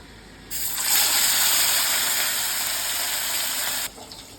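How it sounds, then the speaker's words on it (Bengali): Oil goes into a hot wok for frying fish and bursts into a loud, steady sizzling hiss lasting about three seconds before dropping away abruptly. "কড়াই গরম হয়ে গেছে তেলটা দিয়ে দেব"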